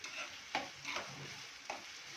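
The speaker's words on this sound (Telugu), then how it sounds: "ఆనియన్ కదా లైట్గా బ్రౌన్, కొంచెం లైట్ కంటే కొంచెం ఎక్కువనే బ్రౌన్ అవుతాయి, గోల్డెన్ బ్రౌన్ అవుతాయి" Onions frying toward golden brown in a pan for chole, with a soft sizzle under a few scraping stirs of a spoon, close and fairly quiet.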